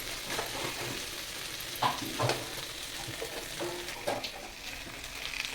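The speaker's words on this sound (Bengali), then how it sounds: "সব বাটা দিয়ে দিলাম একটু কষিয়ে নেব" Ground spice paste being sautéed in a pan before mutton goes in, with steady stirring scrapes and a soft, continuous sizzle close by, a few louder scrapes standing out, and no talking.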